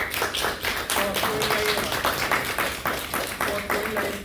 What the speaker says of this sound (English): Please give the speaker a big round of applause.